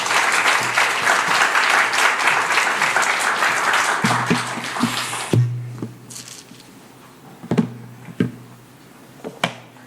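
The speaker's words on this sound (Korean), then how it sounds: "다시 한번 큰 박수로 환영해 주시면 감사하겠습니다" Church congregation at a Friday prayer meeting applauds loudly to welcome a missionary: dense clapping for about five seconds, then it quickly dies away, leaving a few scattered claps and knocks.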